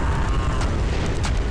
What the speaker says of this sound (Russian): Что он своим взрывом, получается, от попадания сразу по двум наносит урон.